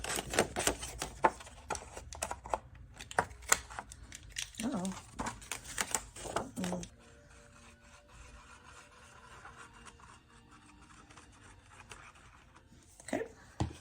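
Paper being cut for a mini album craft: close, quiet snips and rustling scraping in a quick irregular run, then sparse, faint handling sounds.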